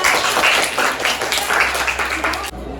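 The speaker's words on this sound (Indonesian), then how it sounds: "Berikan tepuk tangan untuk kelompok 2." A classroom gives a round of clapping for the second presenting group after a chemistry presentation on buffer solutions. The scattered hands are moderately loud and uneven, then cut off abruptly near the end.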